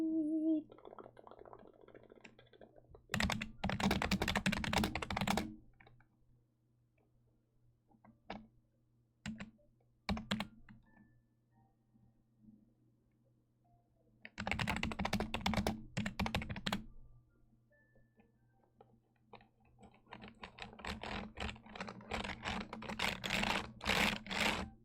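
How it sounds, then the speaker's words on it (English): Someone types on a computer keyboard in dense, clattering bursts of rapid keystrokes separated by quiet gaps and a few isolated taps, close and crisp with no voice. "I'm having fun with my keyboard."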